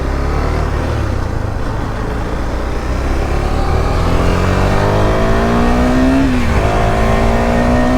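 A KTM Duke 390 with 28,000 km on it accelerates on a test ride, its engine note climbing steadily through a gear and then rising again, loud and close, with road and wind rush underneath.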